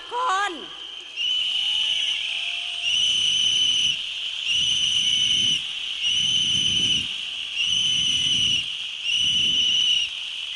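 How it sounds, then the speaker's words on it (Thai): A protest rally crowd on Ratchadamnoen blows whistles together in loud, shrill bursts of about a second, repeated roughly six times, over steady crowd murmur and rumble. "ขอให้เราเป่านกหวีดร่วมกันเพื่อที่จะเรียกร้อง พลเมืองของธรรมศาสตร์ออกมาท"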